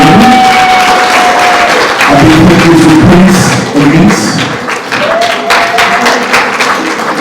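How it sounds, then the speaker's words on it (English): Loud audience applause fills a large community gala event while someone speaks over it through a microphone, the clapping swelling and then thinning toward the end. "Please clap yourselves if you're here"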